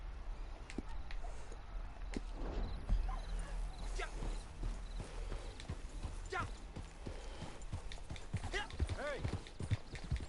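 Horse hooves in Red Dead Redemption clip-clop at a steady walking rhythm, fairly quiet, under occasional voices, with a brief whinny-like sound along the way.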